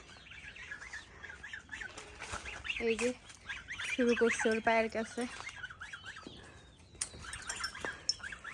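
Chickens clucking and shuffling inside a farm shed, a mix of short calls and flutters, with a person talking nearby over them.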